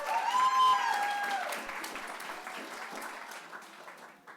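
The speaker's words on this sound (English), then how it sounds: "Give you all a nice round of applause for that." A group of campers at a stuttering camp applauds, a short burst of clapping that starts with some whoops and cheers and then tapers off gradually, close and moderately loud.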